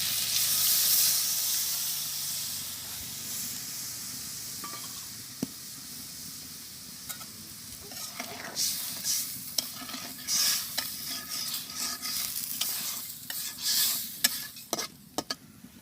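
Mustard paste mixed with water is added to a sizzling fish curry, a steady hiss that turns into busy stirring and scraping with sputtering bursts, close and alone.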